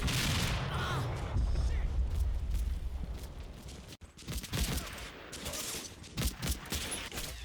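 Artillery firing for effect in the Combat Mission Fortress Italy war game, a dense rumbling barrage of booms and crackling blasts, heavy and continuous at first, then sharper separate impacts after a brief break, with no voices.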